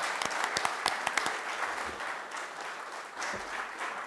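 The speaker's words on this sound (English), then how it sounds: "A big applause." An audience at a Rotary event applauds, with a few sharp distinct claps at first building into sustained, even applause throughout.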